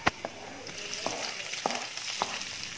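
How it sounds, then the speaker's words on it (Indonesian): Garlic and shallots stir-fry in a pan with a soft, steady sizzle, broken by a few sharp clinks of a utensil against the pan at irregular intervals. "Tumiskan kedua-duanya sampai naik wangi."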